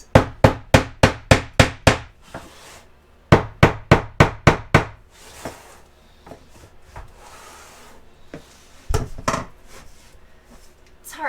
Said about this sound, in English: Then you kind of hammer it into place.